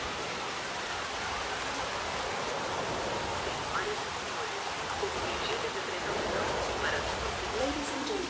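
Steady rain with gusting wind in the Jurassic World Evolution park game, a dense, even hiss running the whole stretch with faint background sounds and a low chance of voices underneath.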